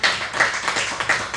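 Sparse applause from a small live audience at a pizza restaurant, a few scattered claps in loose bursts, near and fairly loud, quick and brief, with no talking over them.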